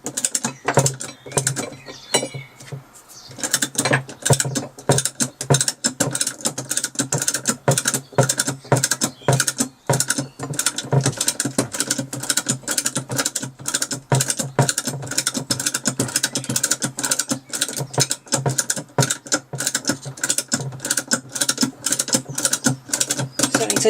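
A ratchet wrench cranks down the side stand bolt on a 1983 Yamaha RS125 DX motorcycle, its pawl clicking in a fast, steady, nearly unbroken run for about twenty seconds, close and alone.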